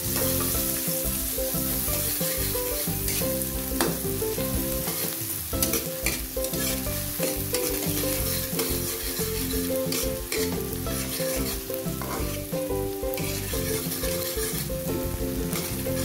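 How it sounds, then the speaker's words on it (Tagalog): Onions sautéing in butter with a splash of cooking oil for a beef and broccoli dish, a steady, dense sizzle and crackle running close and loud the whole way with occasional stirring scrapes and no talking. "Butter or dairy cream. Igisa lang po ang sibuyas."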